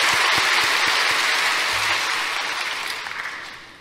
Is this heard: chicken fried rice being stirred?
no